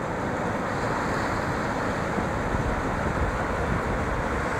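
Ocean surf at Malibu Beach in Los Angeles, a continuous loud broadband wash of breaking waves with steady wind noise and no distinct pauses.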